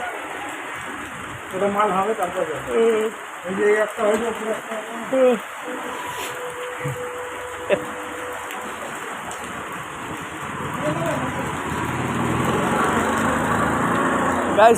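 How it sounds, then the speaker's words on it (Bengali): Steady rain falls as a broad, even hiss that grows fuller toward the end, with people talking over it in the first half. "হ্যাঁ বৃষ্টিটা পড়ছে তো পড়ছেই দেখুন থামে না"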